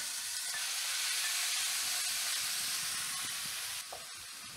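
Ground turkey sizzling in garlic oil in a pan, a continuous bright frying hiss held steady at close range, easing slightly near the end before a brief clatter, no voices.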